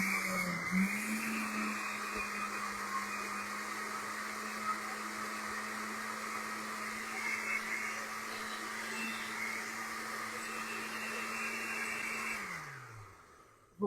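A blender runs on zucchini and cocoa cake batter with a little water added, starting with a rising whir, holding a steady loud motor drone for about twelve seconds, then winding down and stopping.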